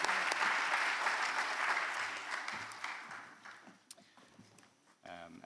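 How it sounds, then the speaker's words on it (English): Audience applause for panel speakers at a coalition event, steady dense clapping that gradually thins and fades, with scattered footsteps and a voice starting to speak at the very end. "So a round of applause for our speakers"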